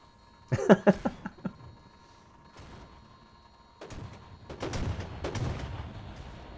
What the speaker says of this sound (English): I guess there go the 250 line ships firing at the Axford past their friend